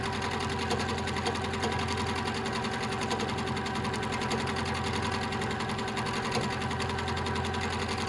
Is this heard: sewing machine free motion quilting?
yes